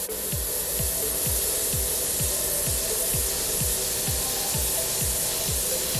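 A cheap Amazon airbrush sprays paint onto a handmade fishing lure with a steady close hiss, while a faint rhythmic compressor pulse repeats about twice per second underneath.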